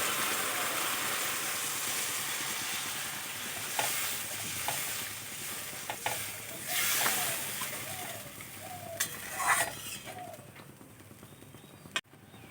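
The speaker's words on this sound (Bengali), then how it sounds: "এখন আমি দিয়ে দেবো জল।" Fried masala sizzles steadily in a pan as water is poured in for a fish-style curry, with a continuous hiss and a few stirring scrapes, close and fairly loud, no talking.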